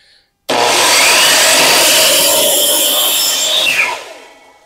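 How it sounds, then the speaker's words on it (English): Power saw slicing a 45-degree bevel through wooden window trim, a loud continuous rasping cut lasting about three seconds close by, then spinning down into quiet. "So we're cutting our bevel or our 45 on this before we measure."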